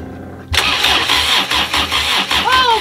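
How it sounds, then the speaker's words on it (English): A boat engine, fitted with a replaced starter solenoid, cranks and catches abruptly, then settles into a steady, loud running chug with rhythmic pulses close by. "And tried to start the engine."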